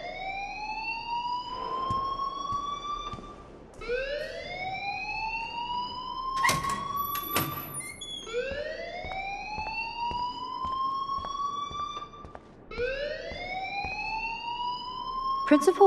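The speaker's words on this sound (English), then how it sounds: "please turn off that alarm since that's your job" School alarm in the video game Life is Strange, a rising electronic siren repeating in long upward sweeps about every four seconds, with brief sharp noises and a voice talking over it.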